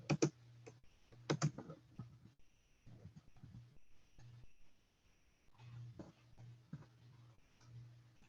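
Keyboard typing as an employee's social security number is entered, clusters of quick clicky keystrokes with brief pauses over a low steady hum, fairly close and moderate in level.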